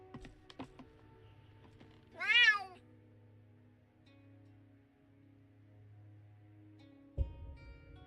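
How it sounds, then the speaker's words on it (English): A single clear, close meow from a cat in a cat shop inside the modded Skyrim video game (Nolvus), standing alone over a quiet low hum, with a few soft clicks before it and a thump near the end. "Welcome, my friend, to Melvin's cat shop"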